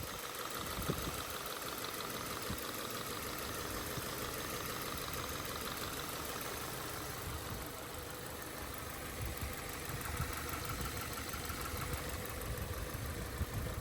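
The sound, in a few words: Subaru Crosstrek replacement engine idling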